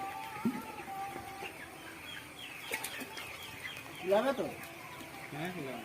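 Scattered clucks and short calls from chickens nearby, with occasional wing flaps and faint background chatter, at a fairly low level.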